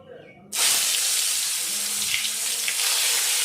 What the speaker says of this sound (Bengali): এখানে বেগুন ভাজবো বলে আমি গ্যাস জ্বেলে দিয়েছি, কড়াও জ্বালিয়ে দিয়েছি।